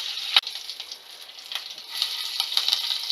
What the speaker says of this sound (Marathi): 1 चमचा आपण मोहरी टाकू. जिरं टाकून घेऊ. कढीपत्ता टाकून घेऊ.